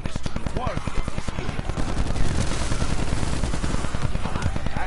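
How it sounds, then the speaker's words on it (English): A double machine gun in a video game fires rapidly and continuously, a dense loud rattle of shots that runs unbroken for several seconds, up close and dominant. "Oh, I got the double machine gun."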